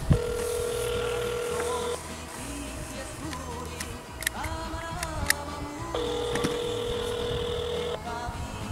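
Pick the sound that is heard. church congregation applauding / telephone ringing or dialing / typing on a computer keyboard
telephone ringing or dialing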